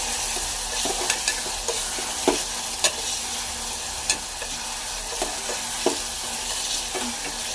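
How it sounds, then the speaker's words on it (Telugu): Onions, green chillies and tomatoes fry in a pan, a continuous sizzle broken by a regular series of spatula scrapes and taps, close and fairly loud. "ఇవన్నీ ఉల్లిపాయలు, పచ్చిమిరపకాయలు, టమాటాలు వేగించుకోవాలి."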